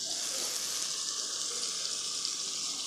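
Boiled chana daal with a little of its cooking water goes into hot, sizzling masala in a pan over medium flame, giving a steady, bright hiss and crackle throughout.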